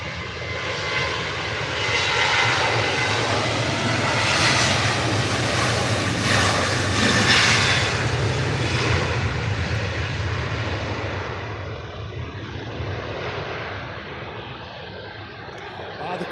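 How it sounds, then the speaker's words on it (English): A Ryanair airliner taking off at Manchester Airport, a loud broad jet engine roar that swells and then slowly fades as it climbs away, heard from a distance with faint talk underneath. "And this Ryanair's off to Milan."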